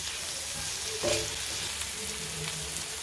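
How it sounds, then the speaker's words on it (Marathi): Chopped tomatoes sautéing in a pan after browned onions, a gentle continuous sizzle with one brief stirring scrape and a faint background hum. "टोमॅटो घालूया टोमॅटो छान परतून घेऊया"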